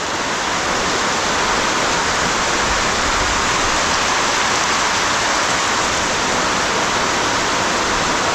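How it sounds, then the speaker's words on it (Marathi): Rain falls in a Konkan forest early in the monsoon season, a dense, loud, unbroken hiss that holds steady throughout. "एका बाजूला पाऊस पडतो आहे"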